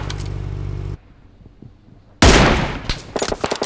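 M416 and M24 gunfire in a shooting video game: a loud burst of sustained automatic fire, a short lull with faint sounds, then a heavy blast followed by rapid shots.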